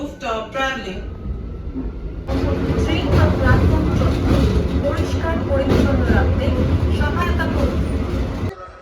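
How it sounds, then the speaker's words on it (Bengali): Train passing at Panskura station, a loud rumbling roar of rolling wheels and engine that swells in about two seconds in and holds steady, with someone talking over the start. "এই যে এই ট্রেনের আওয়াজটা ভাই,"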